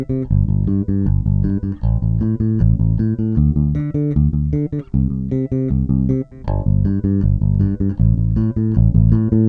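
A bass guitar plays an octave string-skipping exercise with doubled notes on both the lower and upper octave, a loud, steady run of plucked notes alone with no talk.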